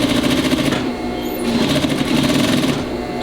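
A sewing machine runs fast and steadily along the crease of a shortened blouse hem, with a continuous close whirring stitch and no pauses.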